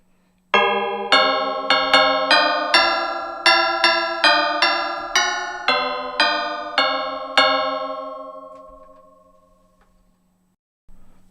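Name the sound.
chromatic bells struck by baton keyboard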